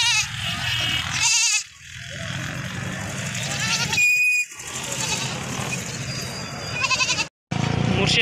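Goats bleating at a busy rural livestock market, several calls rising over crowd murmur and talk, with a few abrupt drops into near silence between stretches.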